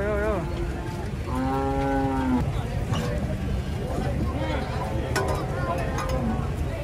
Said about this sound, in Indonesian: Masa sapi ini mudun deh